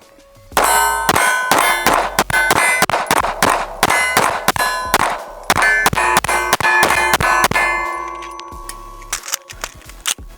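CNC Gunworks AKIRA pistol fired rapidly at steel targets: a fast string of sharp shots, each followed by a bright metallic clang, with the ringing trailing off after the last hits.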